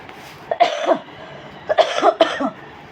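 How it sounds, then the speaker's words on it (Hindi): A person coughing in two separate bursts, each a cluster of harsh, close coughs with short gaps between, alone in a quiet room. "खांसी बहुत ज़्यादा आ रही है"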